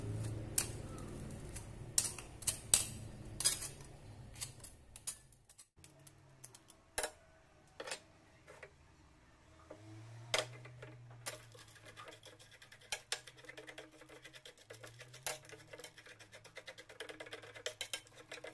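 Spoon scraping and tapping in a pan as sugar is stirred until it melts while making enting-enting gepuk, sharp irregular clinks and scrapes close by with quieter stirring rubs between.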